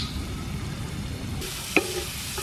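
Onion and salt drop into hot oil in a pan for a mackerel milk curry; a low background hiss swells into a bright sizzle partway through, marked by one sharp clink, with no talking.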